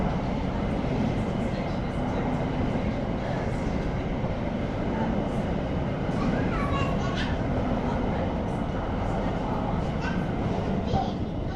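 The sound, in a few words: Thameslink train passing through station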